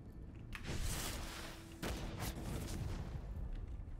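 Heavy gunshots in the video game Witchfire: a few booming, close blasts with rumbling tails over a dense combat backdrop, the first and loudest early on, followed by further reports.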